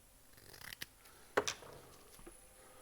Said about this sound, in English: I'm actually going to trim this paper too.